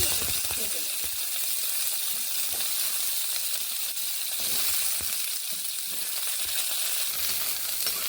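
Steady, loud hiss and crackle of food frying in hot oil, continuous throughout with no voices.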